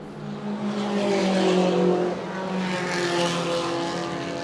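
Race cars, including a Scirocco and a Mitsubishi, roar past at a circuit on a straight, a loud sustained engine drone with rising and falling pitch as the cars pass close by.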